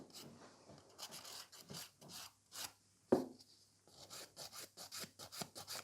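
A nail file rasping over fiber gel nails during a backfill, with quick, soft back-and-forth strokes close to the mic, a brief pause, then more strokes. The sound is quiet and no one talks.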